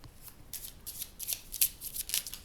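Cards from a Lenormand deck being shuffled by hand, a run of soft papery riffles and flutters in quick irregular bursts, close and fairly quiet with no talking.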